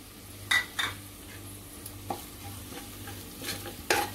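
Onion and turmeric frying in oil in a home kitchen, a steady low sizzle with a few sharp scrapes and clinks of a spoon stirring against the pan, no voices.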